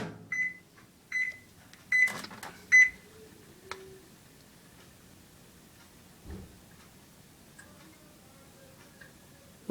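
A microwave oven running with a Peeps marshmallow inside. A few sharp beeps and ticks come first, then a quiet hum with faint clicks and a soft thump. The sound is close and low.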